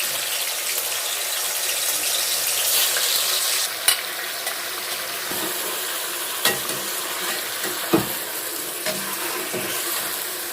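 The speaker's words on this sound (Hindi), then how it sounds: "अभी हम लोग इसके अंदर चिकन डालेंगे" Chicken frying in hot ghee for a shahi korma makes a loud, continuous hiss and sizzle, broken by a few sharp clatters and spatters as the pieces are moved. No one speaks.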